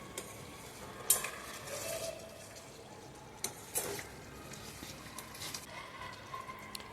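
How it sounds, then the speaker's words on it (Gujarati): A spoon scrapes and clatters through a whole onion curry in a pan, with a few sharp knocks against the metal over a soft, steady sizzle, close and moderately quiet. "હવે તેને હલાવી લઈશું ધીમે ધીમે"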